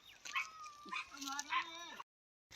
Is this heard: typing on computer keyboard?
no